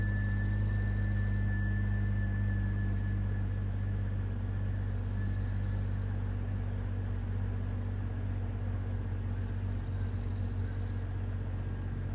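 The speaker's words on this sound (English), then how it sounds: "I'm going to start up the Jeep" A Jeep engine idles steadily with a low, even rumble and a faint whine, with no one talking.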